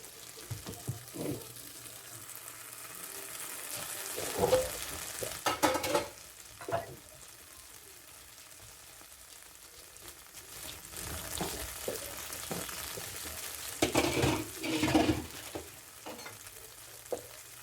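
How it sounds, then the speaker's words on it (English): Green beans and broccoli cooking in a pan, a low steady sizzle with intermittent louder bursts of stirring and scraping that come and go over a long stretch, close by and without talk. "these green beans and broccolis are cooking nicely"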